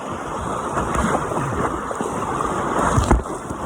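Big waves on the Trinity River near Rock Island, a steady rush of choppy water and wind noise throughout while paddling, with a louder splash near the end.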